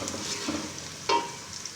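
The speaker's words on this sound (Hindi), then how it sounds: "इसको हिला लेंगे हल्का सा।" Salt, turmeric and crushed and ground red chilli stirred into mixed vegetables (potato, peas, carrot) frying in a pan: a soft sizzle with a few scraping spoon strokes, one sharper clatter near the end, no talking.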